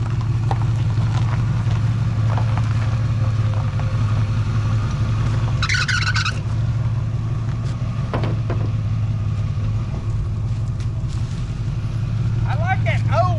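A 1963 Mercury Comet with a 260 V8 drives along, its steady low engine drone loud and close throughout, with voices talking briefly over it.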